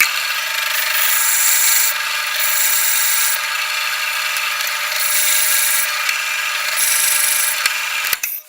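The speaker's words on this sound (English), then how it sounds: "Probably going to do this in a few steps because that's a lot of drilling to do" A power drill whines steadily as it bores a hole for a threaded insert, its pitch dipping and rising in surges, then cutting off abruptly at the end.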